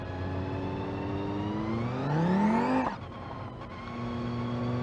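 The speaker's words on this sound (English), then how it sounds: "That sequential transmission, they just sound so awesome." An engine with a sequential transmission in BeamNG.Drive revs up loudly and climbs steadily in pitch, then cuts sharply on a shift, with a brief tire screech before the engine settles into a steady drone. Nobody speaks.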